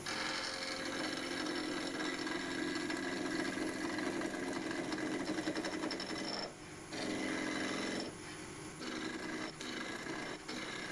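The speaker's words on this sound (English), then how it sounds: "It's got a couple of flat spots, a couple more passes with a skew." Radius skew chisel shaving a Norway maple spindle spinning on a wood lathe, a steady soft scraping hiss with brief pauses between passes, fairly quiet and heard alone.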